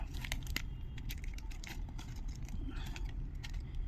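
Paper packaging crinkling and rustling as a fitness strap is unwrapped, a close, busy series of crisp crackles and small rattles over a quiet background.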